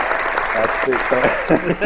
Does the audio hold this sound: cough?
no